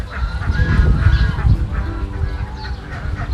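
A large flock of ducks on an egg-duck farm quacks and honks continuously nearby, a loud overlapping clamor with no pauses.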